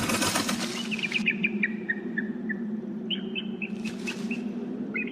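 Birds in an abandoned office building: a brief flutter of wings, then repeated short chirping calls over a steady low hum, fairly faint and distant, with no talk.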